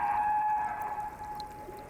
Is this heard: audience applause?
no